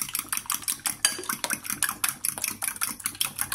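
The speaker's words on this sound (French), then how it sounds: "Continue de mélanger." A whisk beats rapidly against a bowl while mixing quiche batter of milk and pepper, a close, brisk series of clattering metallic taps in a steady, uneven rhythm.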